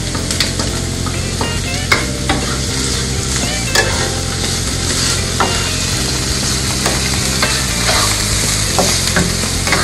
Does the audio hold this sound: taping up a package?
no